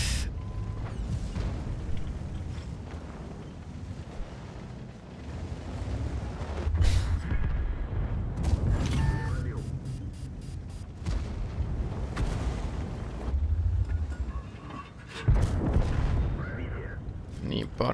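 A KV-5 tank in World of Tanks fires its cannon with gold ammo: several heavy booms and blasts land over a rumbling battle bed, with someone talking throughout.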